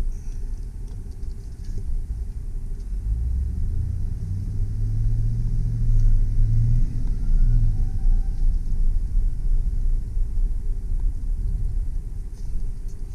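Low steady engine rumble from a 2003 GMC Sierra 2500HD 4WD work truck with a 6.0L engine, heard from inside the cab as it moves slowly, with a slight swell midway and no talking.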